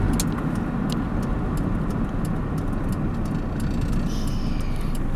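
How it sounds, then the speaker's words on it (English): A car engine with a worn timing chain that rattles runs continuously, a loud, rough, steady drone close by with no pauses or talk. "it needs a timing chain. It would be nice so it didn't rattle so much"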